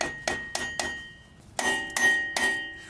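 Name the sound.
lightly tapping a boat trailer hub grease cap in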